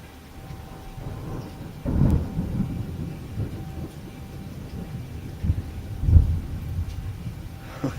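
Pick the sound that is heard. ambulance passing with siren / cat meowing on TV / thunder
thunder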